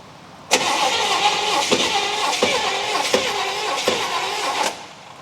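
A 1964 Buick Electra with a previously seized engine cranks and catches, then runs rough and loud with regular pulsing bursts for several seconds before cutting off.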